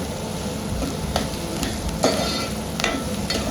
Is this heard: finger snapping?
no